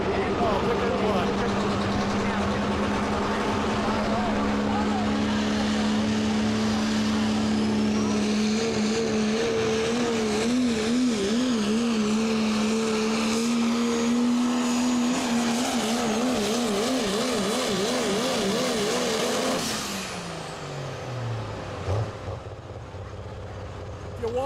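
A pulling truck at a Dodge County Fair truck pull roars loud and continuous at full throttle, the engine note wavering and rising before cutting off abruptly near the end, with a crowd and voices faintly underneath.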